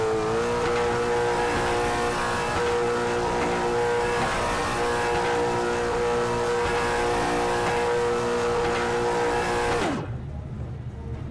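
Late model race cars at South Boston Speedway roar loudly toward the start-finish line. The engines hold a sustained high-revving drone with layered harmonics, then cut off abruptly near the end, leaving a quieter rumble.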